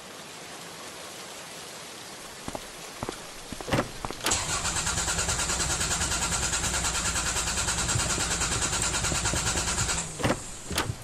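A diesel engine cranks and catches, the rough starter grind giving way to a loud, steady rattling run for several seconds, ending in a few sharp knocks, with no voices.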